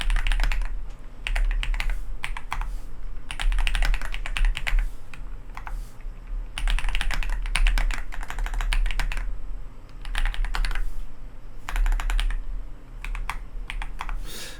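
Bursts of rapid key clicks from a computer keyboard while code is typed in Python, coming in several runs separated by short pauses, close and fairly steady in level.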